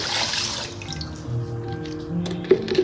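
Eight and a half cups of water poured over five cups of rice in a pot while making lentil rice, a gushing splash that settles into trickling and drips, close and fairly loud.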